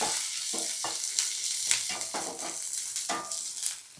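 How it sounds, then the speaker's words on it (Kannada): Urad dal and green chillies fry in a pan, with a steady hiss of sizzling oil broken by short scraping stirs, close and fairly loud, no talking. "ಉದ್ದಿನಬೇಳೆ, ಖಾರಕ್ಕೆ ತಕ್ಕಷ್ಟು ಮೆಣಸಿನ್ಕಾಯಿ ಹಾಗೆ ಫ್ರೈ ಮಾಡ್ಕೊಳ್ಳಿ"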